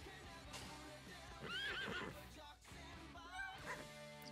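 A horse neighs in a horse-breeding video game: two clear whinnies, the second shorter, over steady background game music and ambience.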